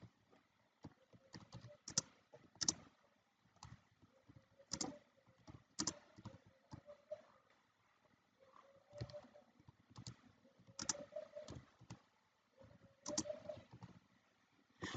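Keys clack on a computer keyboard while C++ code is typed, in quiet irregular bursts of separate taps with short pauses between runs.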